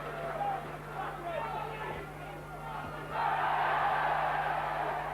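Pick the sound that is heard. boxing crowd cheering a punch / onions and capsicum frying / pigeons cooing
boxing crowd cheering a punch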